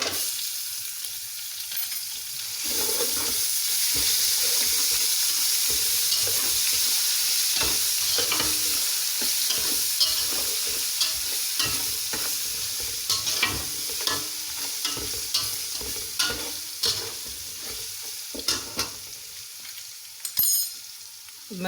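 Browned onions with garlic and ginger sizzle steadily in hot oil for vegetable pulao, with repeated stirring scrapes and clinks growing more frequent later, close up and without speech.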